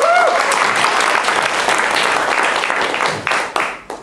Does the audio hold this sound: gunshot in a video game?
no